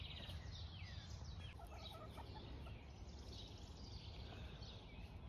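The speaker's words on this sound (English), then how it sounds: "Here are my three chickens." Three backyard chickens, including a silkie, cluck and murmur nearby in a continuous busy outdoor wash, with soft overlapping calls and no speech.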